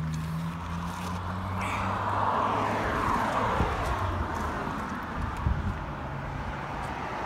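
Traffic rumbles past on a busy thoroughfare as a continuous broad roar of passing vehicles, with a swelling pass-by in the middle and faint talk now and then.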